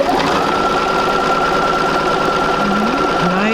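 A sewing machine stitches fabric for a basic sampler quilt, running as a steady, loud, close mechanical hum with a rapid even chatter and no pauses, without talking.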